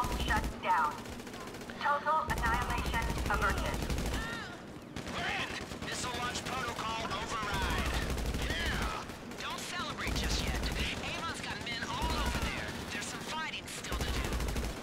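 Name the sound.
gunfire in the video game Criminal Mastermind 3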